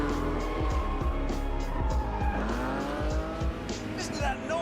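A Ferrari Testarossa flat-twelve engine roars and snarls loudly nearby, with sharp throttle blips and popping bursts across the whole stretch.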